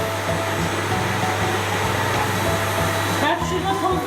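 A household electric vacuum cleaner runs steadily and close by with a constant drone and hum, a brief shift in tone near the end as it is moved during home cleaning.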